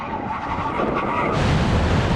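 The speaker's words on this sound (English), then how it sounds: "we're going to have a brake test from 100 miles an hour. When we reach the line, full emergency stop" Lamborghini Aventador making a full emergency stop from 100 mph: a loud, continuous rush of road noise and engine roar with a rough, grinding edge that grows heavier in the second half.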